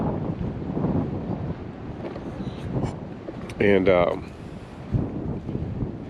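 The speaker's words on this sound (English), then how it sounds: "You have to excuse the wind." Wind buffeting a microphone on a forest trail, a continuous rough low rumble that swells in gusts, with a voice speaking briefly over it.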